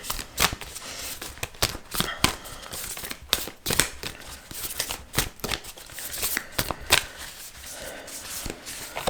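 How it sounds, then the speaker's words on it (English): Tarot cards shuffled close up in quick, uneven bursts of crisp riffling and slapping, fairly quiet, with no talk. "So I'm going to pull a couple of self-care cards as well."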